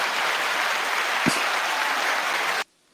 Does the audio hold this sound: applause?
yes